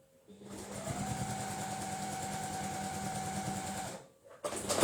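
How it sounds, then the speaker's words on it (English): A sewing machine stitches a seam on a mini double star quilt, running steadily at a close, even hum for about three seconds before stopping, with brief handling noise afterward. "nest that seam, carry on stitching, and then make sure this one is lined up here"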